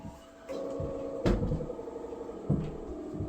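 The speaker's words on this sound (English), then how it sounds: "I'm going to close the door." The front door of a Bambu P1S 3D printer enclosure is closed, giving a few quiet plastic knocks and clunks, one sharper thud near the middle and another a moment later, in a quiet room.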